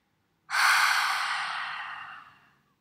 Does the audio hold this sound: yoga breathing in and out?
yes